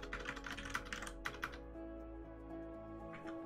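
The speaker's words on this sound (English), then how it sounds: "I'm typing on the keyboard." Keys on a computer keyboard clatter in a quick, close burst of typing, then go still over a low steady hum before a few last taps at the end.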